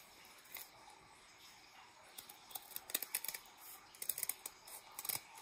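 Scissors snip out a small ear shape while eggs are being decorated, with quiet clicks early on and then a quick run of sharp, close cuts that grows busier toward the end.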